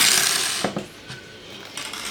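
A small cutter snips through binder rings for a handmade notebook, giving a few short metallic clicks and snaps close by, over a steady airy hiss, with no talking.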